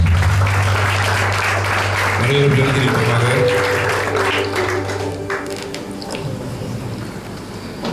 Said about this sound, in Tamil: அவருக்கு ஒரு சிறப்பு கைத்தட்டலோடு